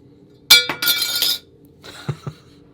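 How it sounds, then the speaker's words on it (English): A bright, tinny clink of a metal Apple Card credit card followed by a short rattling scrape, then two faint lighter taps; close and clear with no talking. "the Apple card had like a little tinny sound to it"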